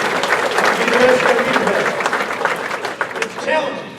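An audience at an Indiana football coach's spring update at Huber's Farm and Wine claps in a dense, steady wash of applause, with a voice talking over it.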